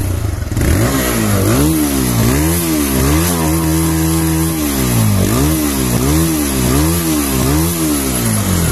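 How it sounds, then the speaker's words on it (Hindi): A TVS Raider 125cc motorcycle engine revs repeatedly, the throttle blipped in a steady rising-and-falling rhythm over a continuous idle, loud and close with no talking. "तो गाइस सुन रहे हो इसका थ्रॉटल ऑसम है भाई"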